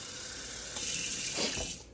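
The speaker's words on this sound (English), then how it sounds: "Just regular water out of the tap." Tap water runs into a glass in a steady rush that swells as the glass fills, then cuts off near the end.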